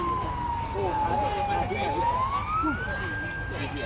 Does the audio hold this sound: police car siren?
yes